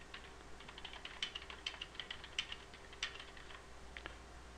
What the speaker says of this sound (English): You can type in your own free text